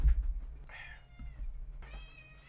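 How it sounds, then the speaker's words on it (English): A house cat meows twice indoors, a drawn-out call and then a second, rising one, moderately close against a low background hum. "I gotta let my cat in"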